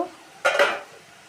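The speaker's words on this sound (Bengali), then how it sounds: "এবার ঢাকনাটা তুলে নিব।" A metal lid lifted off a cooking pot of bitter gourd and shrimp curry, a short, bright clank and scrape close by, heard once and alone.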